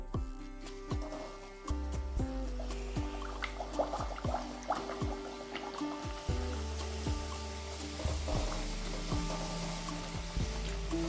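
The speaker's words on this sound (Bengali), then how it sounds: "এবার তেলটা গরম হয়ে গেছে এবার আমি লেচিগুলো বেলেছি সেটা ছেড়ে দেবো তেলে" Rolled luchi dough drops into hot oil and fries. The oil sizzles and bubbles softly throughout, with scattered popping drips and a slight swell in the sizzle partway through.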